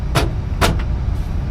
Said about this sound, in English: Door unlock, lock works.